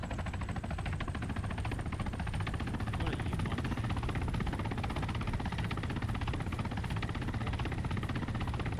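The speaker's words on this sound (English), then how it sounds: "Look, it's amazing helicopter." A helicopter in the military shooter Arma 3 gives a steady, throbbing rotor and engine drone at constant loudness that holds unbroken throughout.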